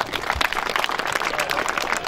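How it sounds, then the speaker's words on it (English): Applause at an under-12 junior football presentation between Oakleigh and Mordialloc Braeside, a dense, steady patter of many hands clapping throughout, fairly close and loud with no talk over it. "Give a round of applause to Mordialloc and his team."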